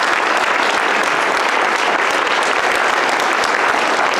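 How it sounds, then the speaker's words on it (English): A conference audience applauds the two speakers, including Mary Robinson, after a climate justice presentation, with loud, dense, sustained clapping throughout and no voices. "So let's give both speakers a round of applause again."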